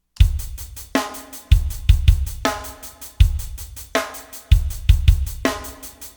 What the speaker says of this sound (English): So let's go listen to our computerized sounding one, just for comparison purposes.